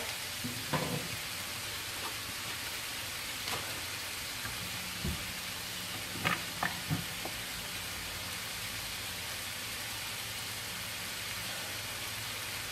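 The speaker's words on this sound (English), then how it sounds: "Onions mixed in, and you can see it's starting to cook pretty quick because I have a decent flame under here" Onions frying in a pan over a medium-high flame give a steady low hiss throughout, broken by scattered faint pops and light stirring clicks, with no voices.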